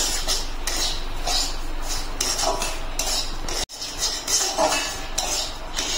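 Semolina roasts in oil in a pan to a continuous dry rustle, overlaid by repeated metallic scraping and clinks of a spoon against the pan, with a brief cut midway.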